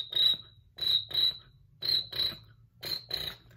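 A beatboxer imitates a cricket's chirp with the voice, producing short, bright, trilled bursts in pairs and threes with brief gaps, close and clear, no other talk.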